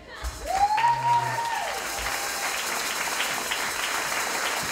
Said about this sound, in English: Big round of applause for Sally and John.